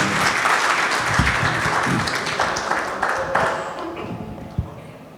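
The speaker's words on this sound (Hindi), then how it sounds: "इनके लिए भरपूर तालियां" An audience at a poetry recital (mushaira) claps and applauds, a dense patter of hands that fades toward the end, with faint voices mixed in.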